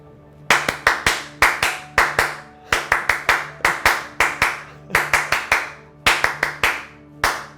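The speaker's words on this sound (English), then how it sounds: "I think you deserve a Class A clap." Hands clap loudly and close by in quick rhythmic groups of three to five sharp claps, separated by brief pauses, with no voices.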